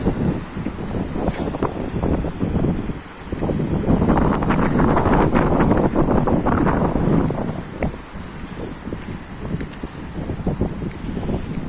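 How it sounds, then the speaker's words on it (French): Steady cold wind buffets the microphone at a mountain lake, a dense rumbling roar with gusts swelling louder in the middle and easing toward the end; no voices. "Il y a un petit vent froid."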